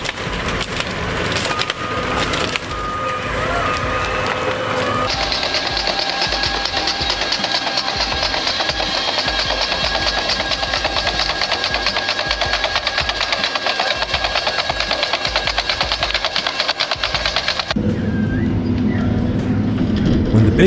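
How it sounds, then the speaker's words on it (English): Large forestry tree-cutting machines saw through trees with a loud, continuous whine and rattle. The sound shifts at about five seconds into a sustained high-pitched cutting tone, then changes again near the end. "When the big machines start cutting down the trees, it feels like a giant machine comes to life."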